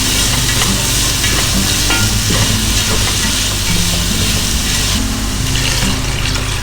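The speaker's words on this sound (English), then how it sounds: "Saute all vegetables." Carrots and beans sizzle and hiss loudly in a hot pan, with occasional scraping and stirring sounds over the constant frying noise.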